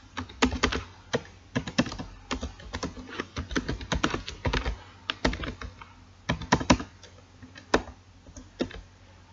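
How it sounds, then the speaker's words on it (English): Typing Python code on a computer keyboard: rapid, irregular bursts of crisp key clicks and taps, close and clear, with short pauses between runs and no talk. "let's type another if."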